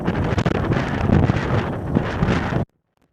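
Strong, typhoon-level gale in southeastern Iceland, loud broadband wind roaring and buffeting the microphone in continuous gusts for over two seconds, then cutting off abruptly to near silence.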